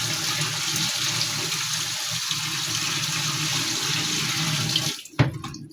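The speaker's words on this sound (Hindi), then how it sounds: "मैं इसमें मैनुअली पानी डाल रहा हूँ।" Water from a bucket gushes steadily into the drum of a Haier fully automatic top-load washing machine, a loud continuous splashing pour that thins out and ends with a few knocks and drips.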